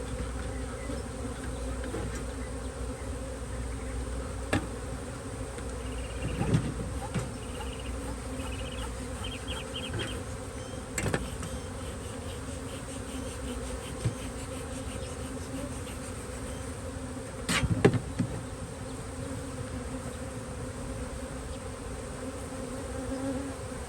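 Honey bees buzz steadily while a nuc colony is installed into a hive. The drone is faint and continuous, broken by a few soft taps and knocks.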